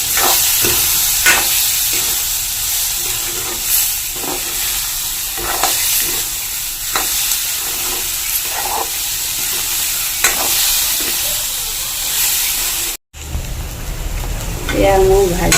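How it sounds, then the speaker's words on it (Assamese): Chopped tomatoes fry in a pan for a moong dal dish, with a steady sizzle and repeated spoon stirs and scrapes at a loose rhythm, close and even, ending after a short break. "লৰাই ভালকৈ বিলাহীখিনি ভাজি লওঁ।"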